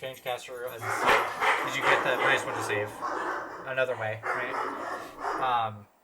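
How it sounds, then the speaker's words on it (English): Dogs bark in the background behind close conversational talk, a few sharp barks breaking through the speech. "excuse my dogs as they bark like crazy in the background"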